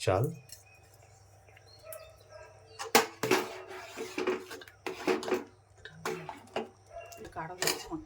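Rice payesh with Gobindobhog rice is stirred in a cooking pot: a series of irregular metallic scrapes and clanks, with quieter stretches and faint chirping in the background.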